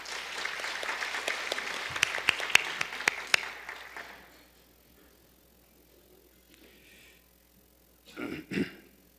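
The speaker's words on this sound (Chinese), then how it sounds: "请掌声鼓励" Applause at a city council inauguration session rings out in a hall for about four seconds, a dense crowd clapping with a few sharp claps, then fading to quiet room noise and a brief cough.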